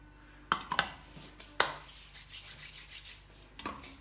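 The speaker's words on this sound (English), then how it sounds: "mix them very good." All-purpose flour, baking powder, baking soda and cinnamon powder being mixed in a bowl, heard as a few soft clinks and scrapes followed by quiet rubbing strokes, close and fairly faint.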